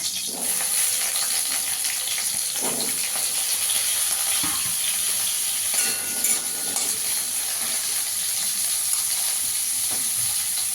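Potato pieces frying in oil give a constant close sizzle and bubbling, with a few scraping stirs of a spatula.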